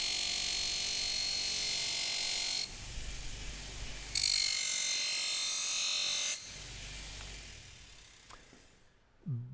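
A 36 grit radial bristle brush deburs the edge of a stainless steel part, giving a loud, steady high-pitched hiss and whir that cuts in and out in long bursts, with quieter motor hum between passes.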